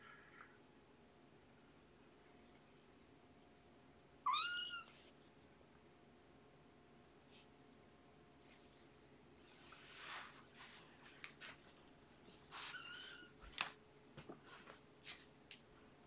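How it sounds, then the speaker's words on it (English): Kittens give a few thin, faint meows, one sharp cry early and a cluster of higher mews near the end, separated by quiet stretches with light shuffling. "Alright, enjoy the kittens."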